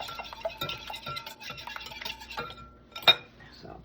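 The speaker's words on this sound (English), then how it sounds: "let's go ahead and beat our eggs up" Four eggs are beaten in a bowl for a southern-style rice pudding custard, with a utensil clinking and scraping in a quick, uneven rhythm close by, ending in one louder clink, and no talking.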